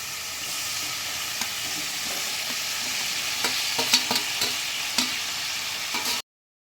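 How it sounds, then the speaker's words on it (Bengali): Fried gati taro chunks sautéed in a thick, oil-releasing spice masala cooked without onion or garlic, giving a dense continuous sizzle with intermittent scraping stir strokes that stops abruptly near the end. "এবার আমি কচুগুলোকে ভালো করে কষিয়ে নেব"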